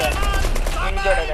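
Heavy automatic gunfire in a video game, a dense continuous rattle of shots filling the short stretch loudly, with a voice talking over the fighting.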